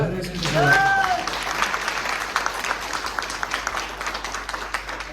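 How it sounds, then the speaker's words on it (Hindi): Audience clapping at a motivational training session, a crowd's applause that swells, then thins into scattered individual claps, with a brief voice at the start. "तो थोड़ी तालियां बजाओ।"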